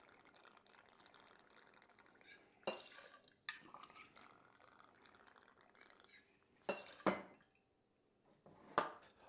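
Liquor is poured out in two-ounce measures for a spicy hibiscus martini with cilantro and jalapeno: soft, quiet liquid trickles broken by a few sharp clinks and knocks of glass and bar tools.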